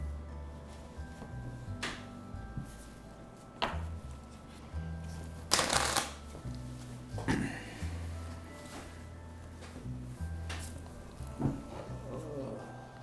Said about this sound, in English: I want to do a riffle shuffle, overhand shuffle, whatever shuffle